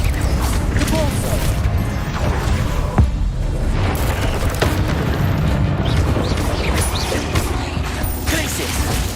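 Spell blasts and clattering impacts from combat in Hogwarts Legacy, a dense stream of booms, crashes and mechanical rattling with a sharp hit near the three-second mark, under game music with some voice.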